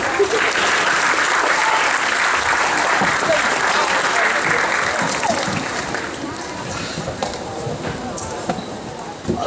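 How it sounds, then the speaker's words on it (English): A school Veterans Day assembly audience applauds steadily for nearly ten seconds, a dense, loud wash of many hands that tapers slightly toward the end. "let's give just each other a round of applause for that"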